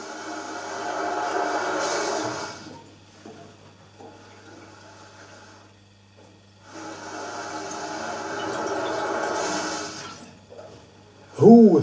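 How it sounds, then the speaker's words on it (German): Water bubbles and rushes through a copper pipe spiral fitted to a stove pipe. Two rough surges of gurgling flow are separated by a quieter stretch, heard close up, ending in a short loud knock. "Es blubbert schon."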